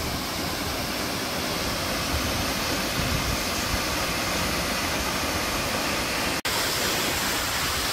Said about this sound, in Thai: นี่คือบรรยากาศที่น้ำตกตาดเยื้องนะครับ